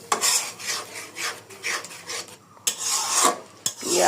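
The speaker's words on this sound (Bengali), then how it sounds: "এখন দিলাম সর্ষে বাটাটা কষিয়ে নেব ভালো করে।" Mustard paste is stirred and fried in a pan, a close rhythmic rasping scrape of the spatula repeating in strokes over a low sizzle.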